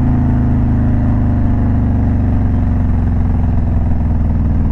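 Motorcycle engine revving steadily and loudly close by as the rider shifts into first gear, a continuous throaty drone with slight pitch variation and no talk.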